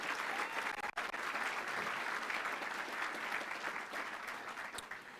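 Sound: audience round of applause

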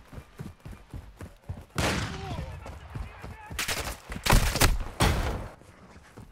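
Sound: gunfire in DMZ video game

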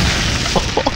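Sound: spell explosion in the Konosuba gacha video game

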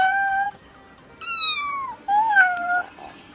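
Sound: cat meowing

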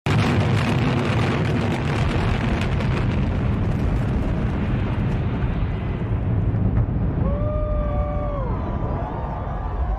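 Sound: implosion demolition of the Aladdin hotel tower

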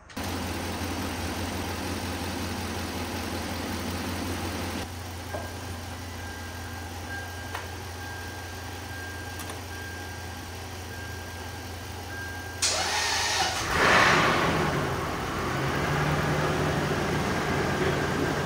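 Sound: Lexus LS400 1UZ-FE V8 engine starting and idling

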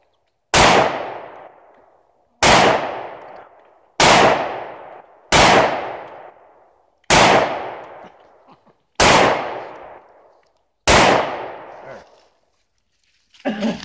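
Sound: 9mm handgun gunshots

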